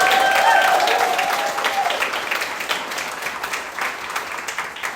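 Audience applause at a press conference for the opening of a healthcare facility, loud dense clapping filling the room that gradually thins, with a faint tone and some voices murmuring underneath.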